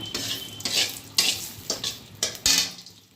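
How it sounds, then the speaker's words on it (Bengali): A torn dried red chilli drops into hot tempering oil and crackles, with several sharp bursts of sizzle and stirring clatter from a spoon against the pan, close and fairly loud with no talking. "একটা শুকনো লঙ্কা ছিঁড়ে ফোড়নে দিয়ে দিলাম"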